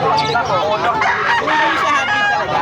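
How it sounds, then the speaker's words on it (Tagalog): A rooster crows loudly over clucking chickens, with people talking in the background nearby. "May mga ibon din po."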